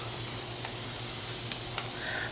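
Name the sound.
spray bottle misting water onto seed row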